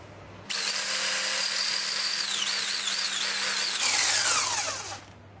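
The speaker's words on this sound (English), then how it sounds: "Now I'm gonna whisk it." A loud, close electric whisk beats a butter mixture in a bowl, running at a steady high whine for about four seconds with its pitch wavering as it works, then winding down and stopping.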